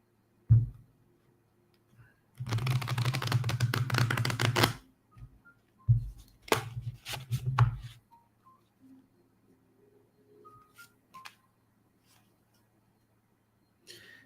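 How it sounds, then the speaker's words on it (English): Psychic's tarot cards being shuffled up close, a dense riffling burst of about two seconds, then scattered shorter shuffles and taps, quiet in between. "Let me shuffle my cards."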